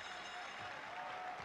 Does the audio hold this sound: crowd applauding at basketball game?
yes